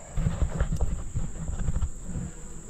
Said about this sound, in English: A little mess of bees right there.